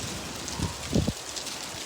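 Rain falls in a soft, steady hiss with a few muffled thumps and drops close by, during a hailstorm.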